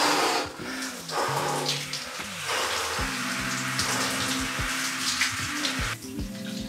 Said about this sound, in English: making the cold shower a quick and effective way to wake you up